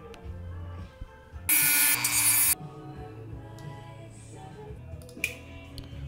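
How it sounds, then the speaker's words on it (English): A Dremel with a sanding bit grinds the sides of a metal circlip in one loud, harsh burst of about a second, set against quiet workshop handling noises and a few faint clicks. "I'm gonna use the sanding bit on my Dremel to kind of thin the sides of this circlip down"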